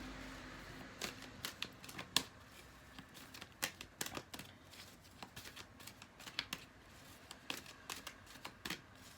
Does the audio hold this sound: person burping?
no